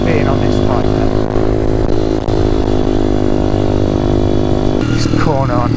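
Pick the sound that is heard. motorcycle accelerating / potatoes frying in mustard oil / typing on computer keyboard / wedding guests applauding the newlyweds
motorcycle accelerating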